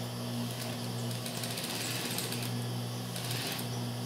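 A sewing machine runs continuously as it stitches stretchy elastane fabric for a top, with a close, even mechanical whir and a steady motor hum.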